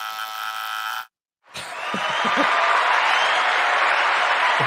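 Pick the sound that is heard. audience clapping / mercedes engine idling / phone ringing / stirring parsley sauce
audience clapping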